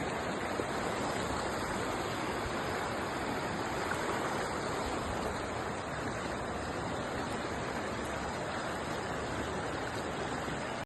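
Strong water current rushes by the sea on a Maldives shoreline, a dense, steady roar of flowing water and surf filling the whole span without pause or voices.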